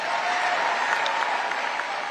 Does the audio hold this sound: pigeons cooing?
no